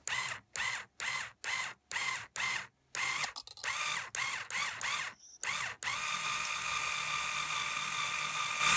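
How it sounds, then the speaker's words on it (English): An Ernie Ball peg winder turns a guitar tuning peg to wind a string, giving a close, loud mechanical ratcheting whir in quick repeated bursts with short pauses, then settling into one steady continuous winding run. "get my favorite new tool, which is my little Ernie Ball peg winder"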